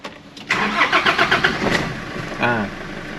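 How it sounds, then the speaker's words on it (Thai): A 2006 Nissan Frontier 2.5 YD-DI turbo intercooler diesel pickup engine cranks with a quick run of rhythmic pulses, catches and settles into a close idle, with a voice speaking briefly near the end. "เดี๋ยวผมสตาร์ทเครื่องยนต์ให้ดู"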